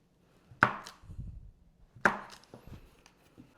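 Two crisp knife chops through cold butter into small cubes on a cutting board, each a sharp thunk followed by a short scrape, spaced about a second and a half apart and quiet otherwise.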